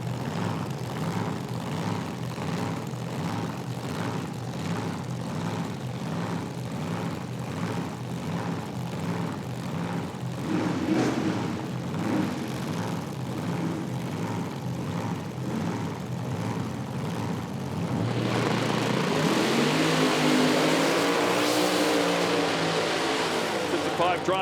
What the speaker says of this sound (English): the 2 cars in the far lane will get the head start based on dial in